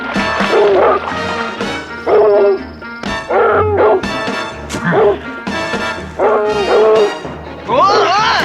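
Dogs in a film scene whimper and yelp while stuck in quicksand, loud, repeated high distressed cries mixed with film score and other sounds, with voices around them.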